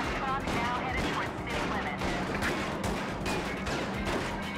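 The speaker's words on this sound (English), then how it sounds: "They got shotguns." Rapid, continuous enemy shotgun and gunfire blasts from the video game Starsky & Hutch, a dense loud barrage of overlapping shots throughout with a voice partly under the din.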